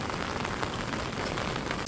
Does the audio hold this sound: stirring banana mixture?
no